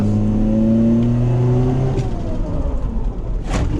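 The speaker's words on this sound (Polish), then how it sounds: "trzeba tak zerwać gazem czy tak dodać mocno gazu, żeby koła zerwały przyczepność wtedy właśnie łatwiej wchodzi w drift." Loud engine roar from a car being floored so its wheels break traction into a drift, strong steady harmonics for about two seconds, then a rougher, choppier rumble with brief bursts of noise as the car slides.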